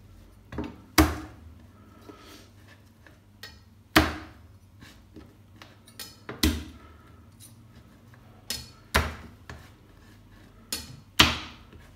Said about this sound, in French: je prends le plat de mon couteau et j'écrase bien mon ail